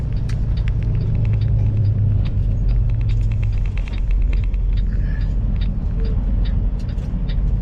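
A loaded flatbed truck rolls into a freight terminal with a steady, heavy low-end rumble, close and continuous, scattered with light rattles and clicks and no talk.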